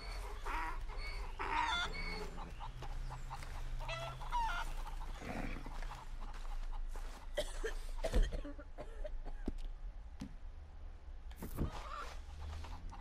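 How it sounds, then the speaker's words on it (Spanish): Chickens cluck and squawk in Red Dead Redemption 2, with scattered sharp calls and bursts over a steady ambient background. "Hay gallinas."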